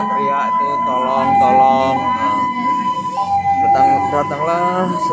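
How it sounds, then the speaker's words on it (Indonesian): An ambulance siren sounds during a disaster-response drill, its wailing tones rising and falling steadily under loud shouting and voices throughout. "Datanglah suatu ambulan yang untuk menolong gitu loh"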